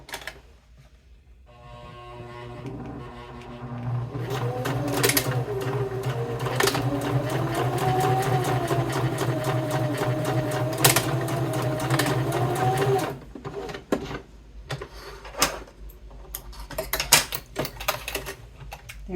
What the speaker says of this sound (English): We've sewn across our first set of card pockets